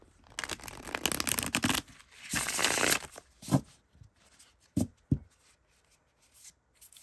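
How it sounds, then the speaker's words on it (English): Crisp riffling bursts of gilded-edge playing cards being shuffled, a couple of longer runs followed by a few short snaps and taps, close up, with no talking. "It shuffles. It's fun to shuffle."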